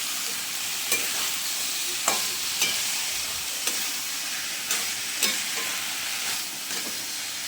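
Boiled banana flower goes into hot spices in a pan for a vegetarian mochar ghonto, a constant close sizzle of frying with sharp scraping knocks of the spatula every second or so as the mixture is stirred.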